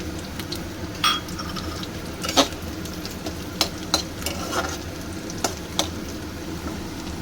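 Garlic and ginger fry in hot oil, a continuous crackling sizzle broken by sharp spatula scrapes and stirring knocks at irregular intervals, close and fairly loud with no talking.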